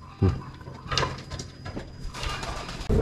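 Pigeons cooing at a breeding loft, soft low coos and a few wing flutters scattered across a steady outdoor background hiss, fairly close but not loud.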